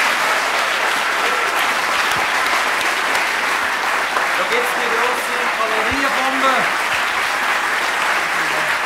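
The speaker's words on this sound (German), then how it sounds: "einen grossen Applaus für dich" A crowd applauds steadily and loudly throughout at an Olympic reception in Switzerland, continuous dense clapping that fills the whole stretch, with voices faintly audible underneath.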